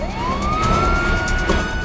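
A police car siren wails in a rising, sustained tone, loud and steady over road noise with no talk.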